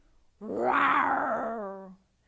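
Children imitating a polar bear's growl: one sustained, voiced growling cry that swells quickly, holds for about a second and a half, then fades, sounding near and fairly loud with no other talk.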